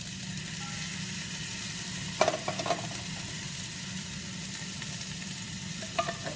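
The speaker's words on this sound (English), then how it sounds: "So now I am going to add the onions, chopped onions." Chopped onions and beans for chili con carne sizzle in a pan in a steady, even hiss, with a few brief scrapes of stirring near the middle and end, close up and without talk.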